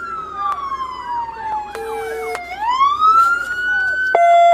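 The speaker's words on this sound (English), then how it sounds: "Cut them sirens." A loud police siren wails and yelps in rising and falling sweeps, close by, with electronic tone changes and faint background noise, during a police arrest of a car thief.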